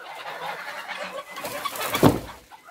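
A farmyard rooster named Petka calls to a hen amid the flock, soft clucking and fowl chatter in the background, then a louder short call near the end.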